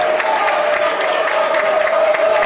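Basketball crowd cheering and applauding in a college gym after a slam dunk in an Otterbein versus Mount Union men's game, a steady, loud roar of cheers and clapping sustained throughout without pause.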